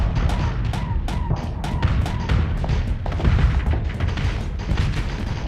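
TPC cannons on a spaceship in the space-combat game Starsector fire a quick, evenly spaced run of heavy thumping shots. Each shot is punchy, the shots are close together, and a rumbling battle noise stays underneath.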